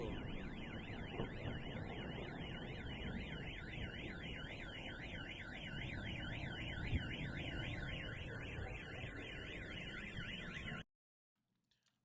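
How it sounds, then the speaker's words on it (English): Several car alarms, set off by nearby drone explosions, wail together in fast, warbling cycles over a low background rumble, then cut out suddenly near the end. "there were drones flying over and then they exploded and it set off a bunch of car alarms"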